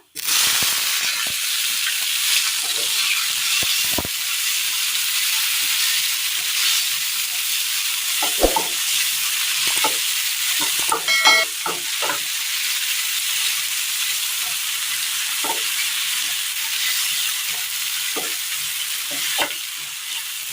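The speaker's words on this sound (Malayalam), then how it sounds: "ഇതിലേക്ക് തക്കാളി ഇടാം." Tomatoes fry in hot oil with mustard seeds in a pan, a constant loud sizzle broken by repeated scraping and knocking from the stirring spoon.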